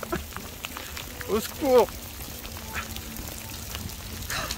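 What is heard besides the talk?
heavy rain with big drops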